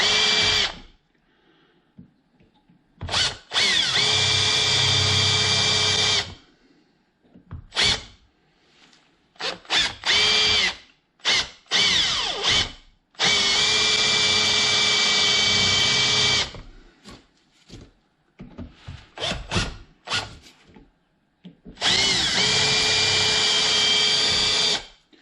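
A drill bores the head off a screw held in a vise, running in repeated bursts of high whining, some long and some short, separated by silent pauses, close and loud.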